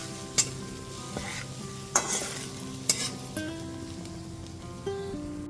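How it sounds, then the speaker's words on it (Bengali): Spice masala with Kashmiri chili powder and added water being stirred and fried, a constant close sizzle broken by a handful of sharp spatula scrapes and knocks against the pan. "জলটা দিয়ে দেওয়ার পর খুব ভালো মতো মিশিয়ে মশলাটাকে খুব ভালো করে কষিয়ে নেব।"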